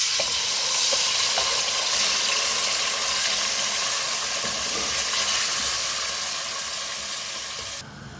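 Marinated beef frying in hot oil with garam masala and ginger in a pot, a loud steady sizzle and hiss that fades slightly toward the end, close up with no talk.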